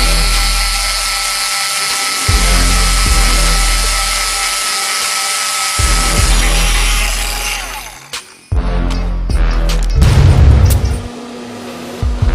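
A power drill bores holes in the plastic body of a 1946 wrecker RC truck, whining at slow speed in long runs with brief stops and a choppier, rattling burst near the end.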